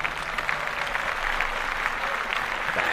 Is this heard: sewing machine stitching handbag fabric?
no